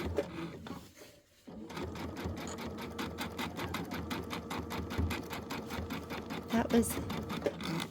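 Embroidery sewing machine stitching in the ditch while finishing a quilted Christmas project, a rapid even clatter of needle strokes running nearly throughout after a short pause near the start, fairly close and moderately loud.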